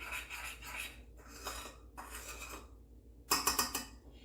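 Caramel-coated nut popcorn being stirred in a pot, giving bursts of dry rasping, scraping rustles in several separate strokes with short pauses between them, the last burst the loudest.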